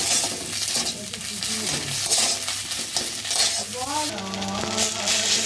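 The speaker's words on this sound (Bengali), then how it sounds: "চিনিটা দিয়ে একটু নেড়ে করে নামিয়ে নেব" Fried bhetkul leaves are stirred with sugar in a wok, a steady sizzle under scraping spatula strokes and a few light metal clinks, close and continuous with a faint background voice.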